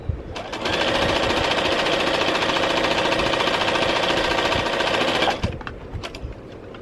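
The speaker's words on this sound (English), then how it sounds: "And then I'm going to go ahead and sew" A sewing machine stitching quilt units together: one continuous, close, steady mechanical whir of fast stitching lasting about five seconds, ending in a few brief clicks and handling sounds.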